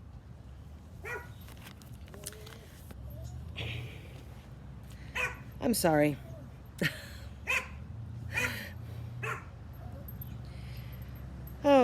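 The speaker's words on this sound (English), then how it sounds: "My dogs followed me outside." Dogs outdoors let out several scattered barks and yips at moderate distance, with a brief quiet spoken remark among them over a low background hum.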